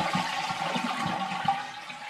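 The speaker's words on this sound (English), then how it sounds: "then you go ahead and flush your toilet. Let all that water go down." A household toilet flushes nearby, a steady rushing and gurgling of water draining through the bowl for a couple of seconds, with no talk.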